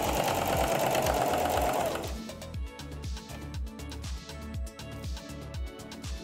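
A sewing machine stitches fabric for a cat-ear animal hat, first in one steady run, then in short repeated bursts of needle chatter. The sound is close and moderately loud, with no voices.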